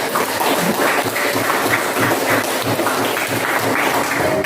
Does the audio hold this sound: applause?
yes